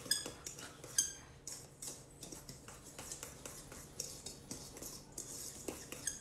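A utensil clinks and scrapes repeatedly against a bowl while pecans are tossed with dry ingredients, a quick, fairly regular ticking rhythm at close range, soft overall.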